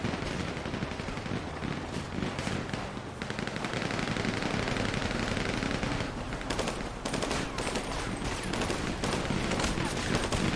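Dense gunfire in NoPixel GTA, sustained rapid automatic bursts and overlapping shots that pound almost continuously and loudly for the whole stretch, with voices talking underneath.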